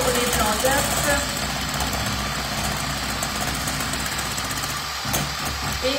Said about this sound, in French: Et on va battre à refroidissement.